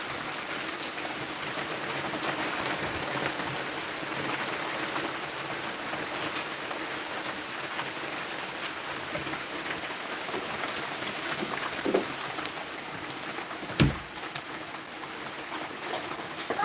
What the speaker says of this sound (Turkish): Şimdi biraz daha azaldı ama yine çok yağmur yağıyor